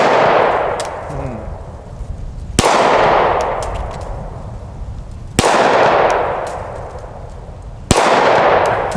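Four loud pistol gunshots crack out at steady intervals of roughly two and a half seconds, each followed by a long, rolling echo that fades before the next shot.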